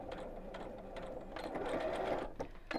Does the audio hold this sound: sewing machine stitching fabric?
yes